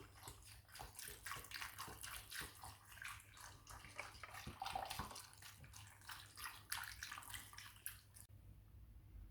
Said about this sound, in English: Followed by 8 cups of chicken stock.